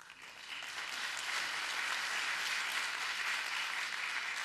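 An audience applauds at a radio launch gala, with dense, sustained clapping throughout, steady and full, close and fairly loud, with no talking over it.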